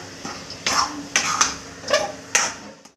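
Carrot halwa being stirred and mixed in a pan, with a series of five or six distinct scraping clinks of a spoon against the metal at a steady pace, fairly close and clear, with no talking.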